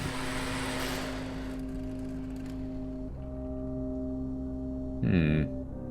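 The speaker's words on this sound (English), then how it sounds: "I aim the leaf blower at the brolly." A leaf blower blowing in The Drifter video game, beside a dumpster against a red brick wall: a loud, steady droning motor hum with a strong whooshing rush at the start and a brief surge near the end, with no talk.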